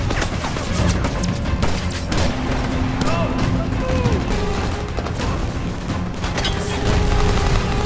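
Gunfire from a war film battle scene: a dense, continuous barrage of overlapping shots and crashes with the roar of combat throughout, loud and close, with no clear pauses.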